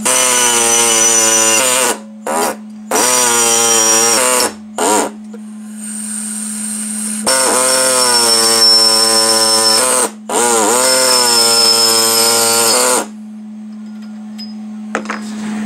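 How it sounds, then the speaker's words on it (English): A power tool cuts out metal tabs for a ball joint tension control rod mount, a loud, high whining buzz in several bursts with short gaps, a lower steady hum continuing between them, and no talking. "All right, now we'll cut the tabs out."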